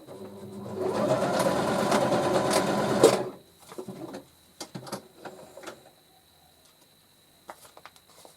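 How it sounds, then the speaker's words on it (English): A sewing machine stitches through floral vintage-style paper ephemera in a steady, fast mechanical run lasting about three seconds, followed by a few short, quieter bursts and clicks. "I'm just going to stitch it right there"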